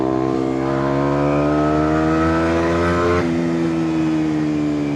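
A Kawasaki Ninja 125 motorcycle exhaust heard while riding, a loud, close, steady engine note that rises in pitch and then shifts briefly around the three-second mark with wind noise underneath.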